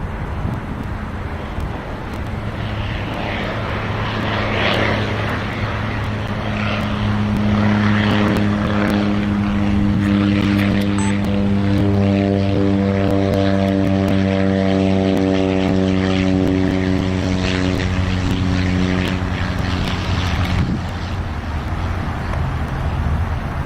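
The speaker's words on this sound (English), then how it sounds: "also have a 737 MAX 8 that should be landing." A Boeing 737 MAX 8 comes in to land at Long Beach airport, its jet roar building and holding steady with a rising whine, loud and fairly close, then fading away near the end.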